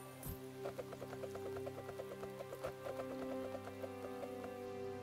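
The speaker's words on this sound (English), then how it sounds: "it just won't stop raining." Rain falling in the survival game The Forest, a soft continuous patter with a quick run of regular ticking drops over a low hum, faint and unbroken.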